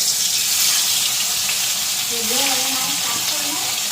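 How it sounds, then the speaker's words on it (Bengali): Fish rubbed with salt and turmeric fries in hot oil in a home kitchen, giving a steady, loud sizzle throughout, with a faint voice murmuring partway under it. "এইদিকে মাছগুলি ভাজা বসায় দিলাম"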